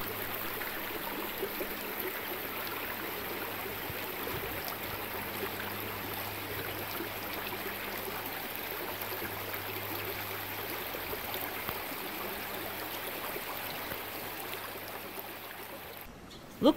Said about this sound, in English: We hear the sound of Uvas Creek get louder the further we walk.